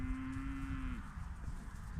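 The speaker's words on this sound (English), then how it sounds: "These are just young ones, they're dairy cows" Young dairy cows moo nearby, one drawn-out low call that fades after about a second, set against outdoor noise.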